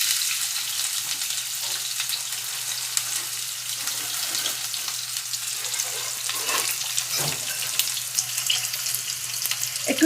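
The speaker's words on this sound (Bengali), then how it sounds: "এবারে আমি একটু পেঁয়াজ দিয়ে পেঁয়াজটাকে একটু ভাজবো।" Onions fry in oil with cumin seeds for chicken kasha, a steady close crackling sizzle with occasional stirring scrapes, no voices.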